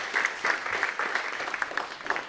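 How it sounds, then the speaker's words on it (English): Church audience applauding the evening's panel, a steady dense patter of many hands clapping throughout, moderately close and with no talk over it. "Let's give them a big round of applause."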